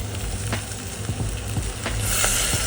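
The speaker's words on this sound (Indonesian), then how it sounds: "bumbunya udah layu nih yang kita tumis" Spice paste for Penang nasi kandar sizzles steadily as it sautés in a pan, with occasional scraping stir clicks over a constant close frying hiss.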